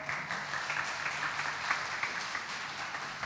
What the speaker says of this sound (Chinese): 让我们一起鼓掌鼓励她